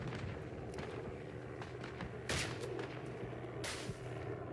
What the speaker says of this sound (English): L'artiglieria sta sparando su queste coordinate!